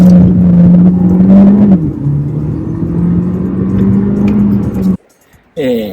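Engine note of an Audi A3 sedan (8V) fitted with an aftermarket air intake and aftermarket exhaust, heard from inside during a test drive: a loud, steady drone holding pitch, dipping briefly, then cutting off before another rise at the end.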